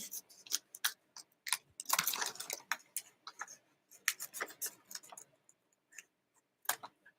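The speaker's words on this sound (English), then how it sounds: "I'm just cutting through, so you can see both of the layers of bags are being cut through" Scissors cut through two stacked layers of a brown paper lunch bag, making a close, crisp run of irregular snips and crunches with short pauses between cuts and no voices.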